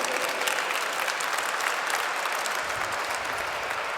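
Audience at a 30th-anniversary gathering of a Franco-Armenian chamber of commerce applauds the president and board, sustained, full clapping from a large room that stays loud and unbroken throughout.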